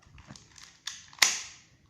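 A spring airsoft pistol is cocked and fired: a soft rattle of handling, then a mechanical click-clack of cocking, followed by one sharp, snappy shot with a brief ringing tail, close and fairly quiet.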